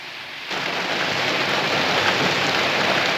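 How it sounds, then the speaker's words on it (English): Heavy rain during the 1975 Indianapolis 500 as it cut the race short; a dense, even downpour begins suddenly after half a second and stays loud and steady without any talking. "The winner of the rain-shortened 500 is Bobby Unser"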